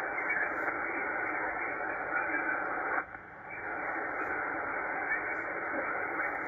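Ham radio signal on a hurricane watch net during Helene, a steady band of hissy, metallic interference with no voice audible, broken by one brief dip partway through.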